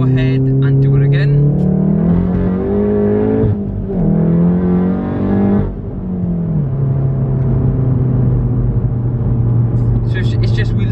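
A VW MK7 Golf R with a Haldex pump problem accelerates hard in second gear while the front wheels spin, its engine note rising and shifting loudly and steadily for several seconds, with a voice speaking over it.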